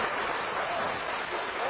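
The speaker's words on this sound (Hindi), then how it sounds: "जोरदार तालियां बजाओ।" An audience gives a brief burst of steady, dense clapping that sounds like hissing rain, with no voices over it.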